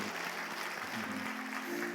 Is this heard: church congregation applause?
yes